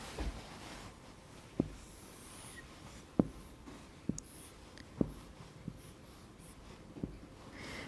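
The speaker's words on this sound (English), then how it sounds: "I'll draw it again" A marker draws on a board with sparse, sharp squeaky taps and short strokes spaced a second or so apart over a faint steady room hiss.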